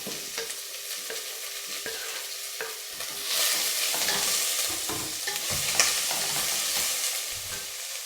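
Sliced onions, ginger and green chilies fry in a pan for a soya chunk roast, a steady sizzle that swells as a spoon stirs them, with no talking.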